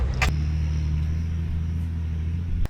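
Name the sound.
TD42 diesel vehicle driving up a hill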